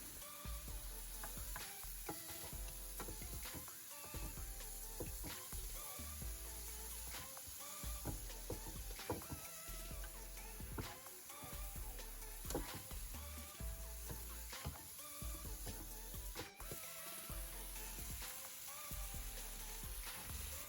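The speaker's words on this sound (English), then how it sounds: "I'm just gonna fry this for 10 minutes." King prawns frying in a pan give a steady, dense sizzle throughout, with scattered crackles and pops and occasional scraping stirs, close and continuous with no talk.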